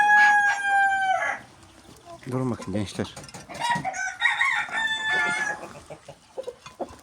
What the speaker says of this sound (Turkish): Evet getirdik tavuklarımızı.